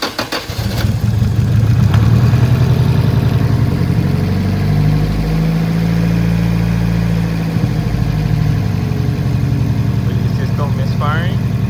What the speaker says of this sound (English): We got the 1000cc injectors set up. Try to start it.